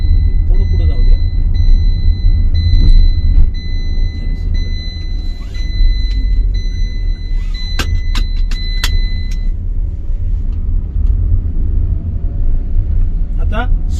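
A car moves slowly during a driving lesson with a steady low engine and road rumble. Thin tonal beeps sound partway through, and the drone stays even with no strong revving.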